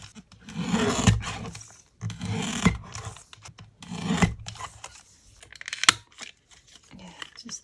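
Sandpaper or a file rasps back and forth, rounding the edges of a small paper craft tag, in several close bursts of rubbing separated by short pauses.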